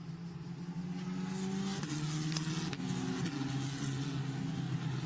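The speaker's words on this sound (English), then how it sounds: "Cars turning through." Formula Renault racing cars with 1800cc turbocharged Renault engines drone past at Imola during a Eurocup race, a steady mid-pitched engine whine with gear-shift steps and rising revs, moderately distant and continuous.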